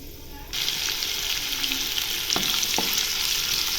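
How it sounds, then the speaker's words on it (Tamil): Finely chopped large onion and green chillies hitting hot oil in a pan for a chicken soup dish, a sudden loud sizzle that settles into steady frying with a couple of stirring scrapes. "பொடியாக கட் பண்ண பெரிய வெங்காயம் ஒன்று அதுக்கப்புறமா பச்சை மிளகாய் கட் பண்ணது இதில் போட்டுக்கலாம்"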